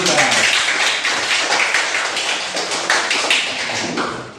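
Classroom applause for student groups during a lesson, a dense burst of many hands clapping that stays loud and steady, then slowly thins, with voices mixed in.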